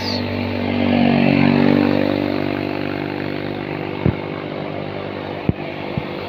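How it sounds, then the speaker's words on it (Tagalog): Honda Click and Yamaha NMAX scooters pass by along the Marilaque highway, an engine drone swelling and fading, with a few sharp clicks afterward under a steady outdoor background. "ito guys oh ayan oh Honda Click Honda Click ayan NMAX"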